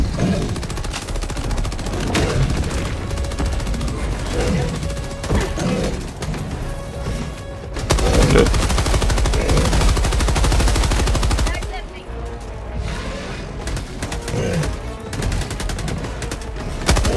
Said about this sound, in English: Alright, reloading my machine gun.